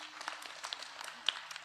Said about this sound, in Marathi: त्या तरुण पोरासाठी एकदा जोरदार टाळ्या वाजवा बाबा